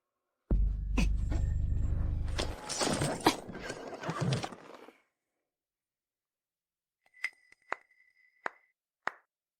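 A horse gives a loud, close whinny with snorting, then after a pause hooves clip-clop in a few sharp, separate strikes.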